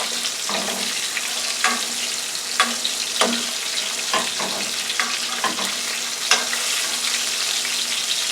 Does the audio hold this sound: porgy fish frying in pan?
yes